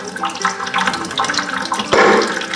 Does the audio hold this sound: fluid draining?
yes